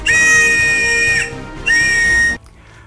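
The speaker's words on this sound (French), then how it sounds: "Alors c'est des sifflets de randonnée" Two long, shrill blasts from a hiking whistle sound loud and close, separated by a brief pause.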